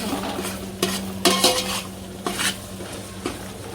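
Coriander stirred into pav bhaji in a pan, with a spoon scraping and clacking against the pan in a few distinct strokes over a soft sizzle, close and clear.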